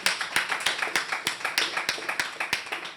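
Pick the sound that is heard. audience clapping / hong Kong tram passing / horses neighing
audience clapping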